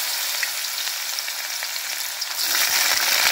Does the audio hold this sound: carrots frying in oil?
yes